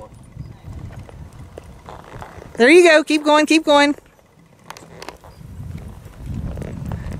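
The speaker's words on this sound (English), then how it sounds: "He's stepping out now like a show horse." Hooves of a black and white spotted saddle horse gelding clop softly and rhythmically as he steps out under coaching, while a voice calls encouragement in short bursts over the steady footfalls.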